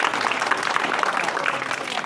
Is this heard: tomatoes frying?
no